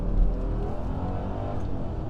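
Mercedes SL500 Silver Arrow accelerating hard, a loud continuous V8 engine roar with road rumble from inside the car, sustained over the short span without talking.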